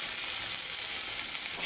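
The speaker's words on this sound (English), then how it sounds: "I've gently mashed 4 to 5 cloves of garlic. So I'm going to add that to the pan." Four to five mashed garlic cloves frying in hot oil in a pan, an even, hissing sizzle, close and continuous with no voices.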